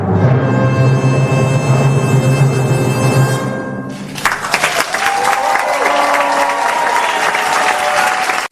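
Audience applause breaks out after a choir concert closing the Prievidza spieva 2014 festival, following the end of a sustained choral chord; dense, loud clapping fills the hall steadily, with a few voices and cheers mixed in.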